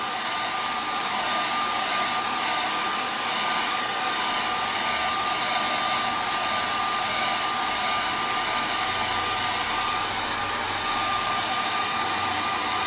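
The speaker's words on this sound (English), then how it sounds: "Oh, hair dryer." A hair dryer runs continuously at an even, loud whir with a steady high tone, alone for the whole stretch.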